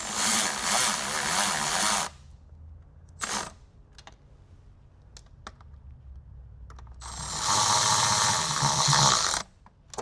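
A ratchet tightens small bolts on a Tesla drive unit, giving two long bursts of rapid close clicking separated by a quiet stretch of scattered small taps and metal knocks.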